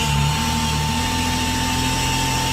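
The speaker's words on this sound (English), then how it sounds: "Emptying everything that's inside the hamper." A Tennant ride-on sweeper's hamper empties into a dumpster while a steady mechanical motor hum drones loud and close, with a brief shift in pitch at the start.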